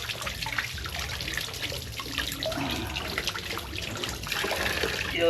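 Water runs from a tap in a cramped kitchen sink area, a steady broadband trickle and splash that holds evenly close by for several seconds with no voices.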